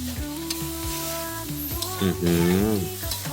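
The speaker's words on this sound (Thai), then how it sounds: "ผัดแป๊บเดียวเขาก็สุกแล้วล่ะครับ คราวนี้ก็ตามด้วยกะทิลงไปครับ" Seafood stir-fried in a pan over moderate heat as coconut milk is poured in for a dry tom yum, with a steady close sizzle and scraping stirs under a loud, sustained tonal hum.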